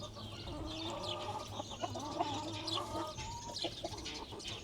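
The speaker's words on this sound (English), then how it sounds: "Those buff-laced Polish frizzle." Buff-laced Polish frizzle chickens in a breeder pen cluck and murmur close by, a busy overlapping chorus of short clucks and warbling calls with scattered louder squawks.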